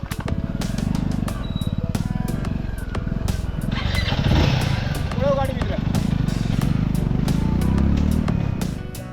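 A Royal Enfield Himalayan 450 motorcycle engine thrums steadily as it is ridden through a forest, with a rhythmic pulsing rumble and some surrounding noise, fairly close and continuous.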